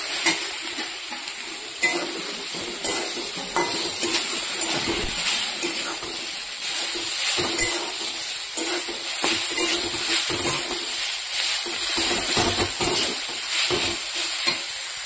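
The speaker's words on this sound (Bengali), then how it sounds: "এবার হচ্ছে ডিমা শাকটা দিয়ে দেবো।" Dima greens being stirred and fried in a pan with already fried potatoes and eggplant: continuous close sizzling with repeated scraping stir strokes, no talking.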